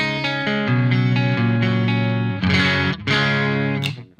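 Clean electric guitar through a Soldano SLO amp into a Mesa cabinet, miked with a single SM57: sustained chords and picked notes ring out steadily, then a few brighter strums before the last chord decays.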